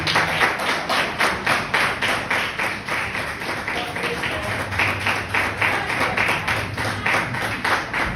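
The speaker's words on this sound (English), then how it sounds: "let's give a round of applause for Adam, the first one on the list, please" Audience applause for Adam, the first speaker at a student council presidential and external affairs debate, with fairly loud rhythmic clapping that rises into steady pulses across the whole stretch.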